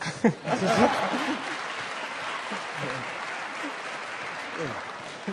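An audience claps at a university opening ceremony for Africa Awareness Week, a short burst of applause with a little laughter that gives way to a voice speaking over the fading crowd.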